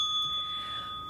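A small bell, like a bicycle bell, rings with a sustained, steady tone through the whole second, fairly clear against a quiet studio background on a late-night talk show.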